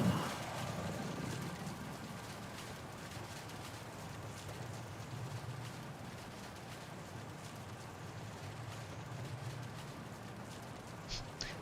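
Steady rain in The Legend of Zelda: Tears of the Kingdom hisses continuously at a moderate level, a constant wash of falling water with a few faint clicks near the end.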